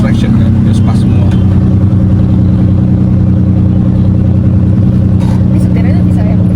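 A car's engine drones loud and steady while drifting on the Sentul circuit, a constant close roar under someone talking throughout.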